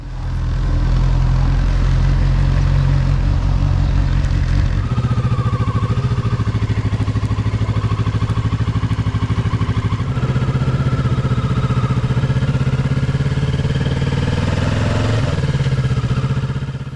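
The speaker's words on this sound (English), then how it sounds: "this is how my old CB600F sounded like" An older Honda CB600F motorcycle engine idles close and loud, a steady deep rumble with even mechanical clatter that continues without a break for the whole stretch.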